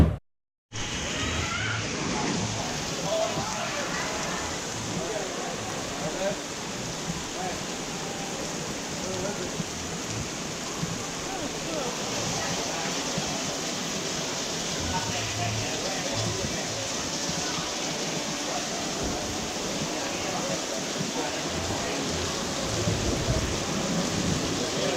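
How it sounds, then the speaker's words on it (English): Steady rain pours down in a constant hiss during a storm in Railay, Thailand, with low rumbles of thunder rolling underneath throughout. "we did endure a little tiny storm"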